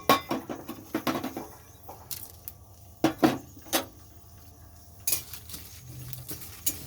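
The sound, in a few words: dry-roasting dried chillies and bay leaves in a kadai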